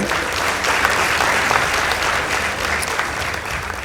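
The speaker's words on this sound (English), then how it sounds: "Let's give them a round of applause." Sustained applause from a crowd at a school competition, steady and dense clapping throughout with no pause.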